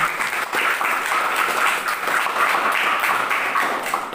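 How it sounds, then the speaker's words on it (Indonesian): A school audience claps loudly and steadily at a talk on violence against children and women, a full, even wash of many hands throughout. "Ya, boleh tepuk tangannya teman-teman sekalian."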